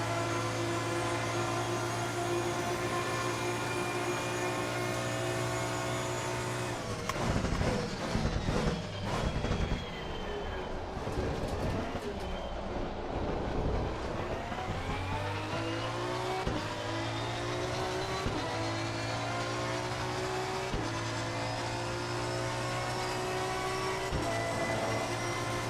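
A pack of GT race cars roars in Assetto Corsa Competizione, with a dense, steady engine drone, rising and falling revs and several sharp gear changes. The sound is loud and continuous, with no talking.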